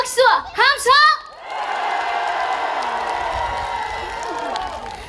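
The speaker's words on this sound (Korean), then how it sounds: "우리 모두 축하한다는 의미로 다 같이 박수와 함성!" A crowd at a township sports festival in Wachon-myeon, Gyeongsan, breaks into loud, sustained applause and cheering after a few brief shouted voices up front, the clapping and whoops filling the rest of the moment.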